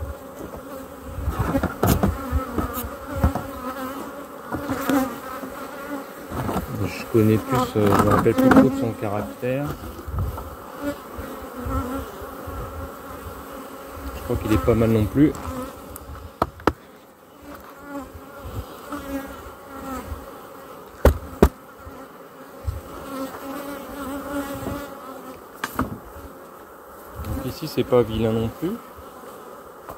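Honeybees from a hive colony hum and buzz steadily up close during a late-season hive inspection, with someone speaking French over the swarm and occasional handling knocks.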